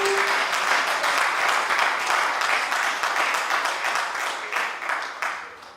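A church congregation applauds in a steady, loud wash of many clapping hands, sustained for several seconds before tapering at the end.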